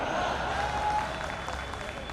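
Audience at a Delhi Hasya Kavi Sammelan comedy poetry event breaks into applause, a steady broadband wash of clapping with crowd murmur lasting about two seconds at moderate loudness.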